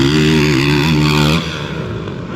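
A motocross bike fitted with a Yoshimura exhaust roars loud and close at a practice speedway, its engine note rising and falling, then dropping to a lower, rougher drone as it pulls away.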